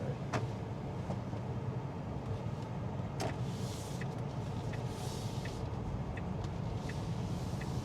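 A Tesla Model 3 rolls through a quiet neighborhood with a steady low road and tire rumble, faint and even, punctuated by a few soft clicks and taps inside the cabin.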